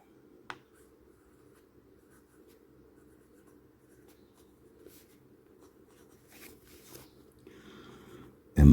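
An Admok M800 fountain pen with a Schmidt steel F nib scratches softly across paper in faint, continuous strokes, quiet and close, with a few small taps and handling sounds.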